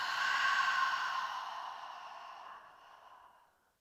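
A long, deep exhale through the mouth during a beginner yoga breathing exercise, a soft breathy rush that starts strong and gradually fades away over a few seconds, heard alone without talk.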